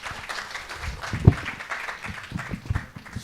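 Audience at a sustainable-development seminar claps in a thin, scattered way, individual claps standing out with one sharp close clap, fairly soft overall.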